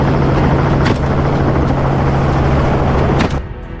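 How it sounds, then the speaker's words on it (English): Low-flying helicopter used to flush wild pigs from dense cover, a loud close rotor drone with steady chopping throb that cuts off sharply near the end. "the pilot expertly navigates the helicopter to flush wild pigs from dense cover"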